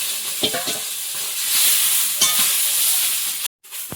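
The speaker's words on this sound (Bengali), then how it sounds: "কচুটা এতক্ষণে ভাজা হলো" Pieces of taro fry in a pan with turmeric, a dense steady sizzle broken by several sharp stirring scrapes, close and fairly loud with no talking, ending in an abrupt cut.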